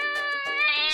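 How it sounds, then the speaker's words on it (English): A domestic cat meows repeatedly in short, clear, tonal cries, close and fairly loud, with no talking. "These are cats."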